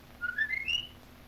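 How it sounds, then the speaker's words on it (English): A man whistles a short rising call from a little way off, the few notes faint but clear over a quiet room. "There's Jim's whistle."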